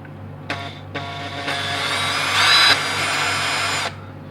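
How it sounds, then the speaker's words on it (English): A power drill bores into the gold plate of a 1/64 Hot Wheels La Troca diecast car, whining in short bursts and then a longer steady run that rises in pitch partway before stopping. "I now know how far I have to drill."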